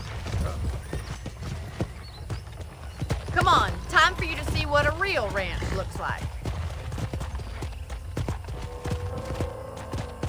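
Horse hooves clip-clop on a video game ranch, a steady walking beat of hoof strikes with a horse's whinny partway through and someone speaking over the scene.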